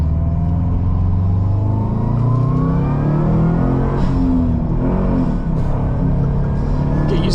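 Cabin drone of a 2018 Subaru WRX STI on the move, a loud, steady low engine rumble with rising and falling revs and whirring tones as the driver works through the gears, with no talking.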